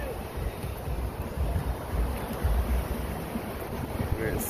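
Ocean surf rolls in steadily at Bathsheba beach on Barbados's Atlantic coast, a continuous wash of breaking waves mixed with gusty wind buffeting the microphone, close and fairly loud throughout.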